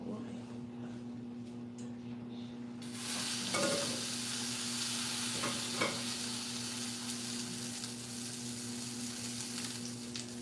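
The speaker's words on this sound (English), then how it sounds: "I'm getting ready to make some greens this morning, and I'm boiling the meat first" Meat boiling in a pot on the stove as the first step for cooking greens, a steady low bubbling hiss that rises after a few seconds, with faint clinks and brief stirring sounds and low speech in the background.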